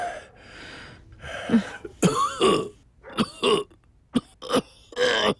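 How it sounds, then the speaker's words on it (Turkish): A person coughs repeatedly indoors, a string of harsh, close bursts with some throat clearing and heavy breaths between them, getting sharper and more clustered toward the end. "Çok öksürüyorsun."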